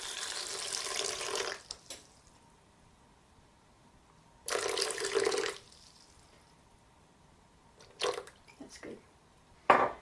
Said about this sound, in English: We'll add about a cup of water.